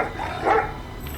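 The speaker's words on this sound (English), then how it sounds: "Puppy!" Puppy giving a single short bark, a brief mid-pitched yelp rising in the middle of the moment, close and fairly loud against a low background hum.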